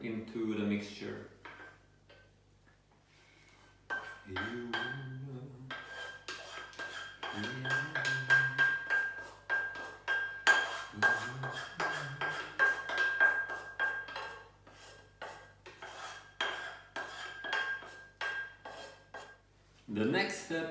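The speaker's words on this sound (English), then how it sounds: "next we add the melted coconut butter into the mixture" Melted coconut butter being poured and scraped into a bowl of chopped nuts and dates, a series of quick clinking spoon-on-bowl scrapes and taps close by, with a person speaking over parts of it.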